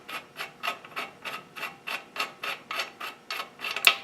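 A tool grips and turns an e-bike bottom bracket to remove it, giving about a dozen evenly spaced ratcheting, rasping strokes close by, with no voices.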